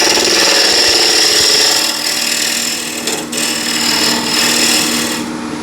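A bowl gouge cuts into spinning wood on a lathe, giving a loud, steady, hissing scrape that carries on without a break and changes little in tone.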